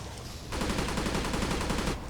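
A dense naval gunfire barrage in a PC naval warfare game, rapid overlapping booming shots in a continuous burst lasting under two seconds, loud and close.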